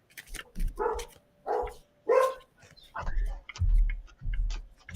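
A dog barks repeatedly nearby, several sharp barks in irregular bursts with short pauses between them.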